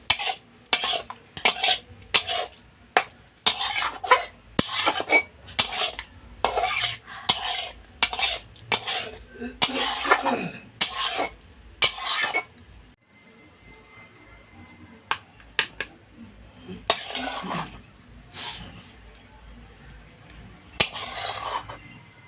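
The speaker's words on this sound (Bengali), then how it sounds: "মিশিয়ে নিচ্ছি ঘিটার সাথে।" A spoon scrapes and clatters through palak paneer cooking with ghee in a pan, a steady run of rhythmic, close stirring strokes that later thins into occasional scrapes and knocks.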